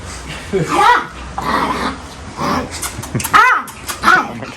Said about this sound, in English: Puppies fight.